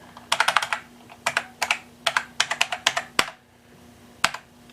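A password being typed on a computer keyboard, with close, crisp key clicks coming in quick bursts separated by short pauses and a final isolated keystroke.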